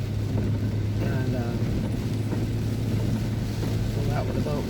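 A motorboat engine drones steadily and close by on the water off Okaloosa Island, mixed with wind buffeting and someone talking over it.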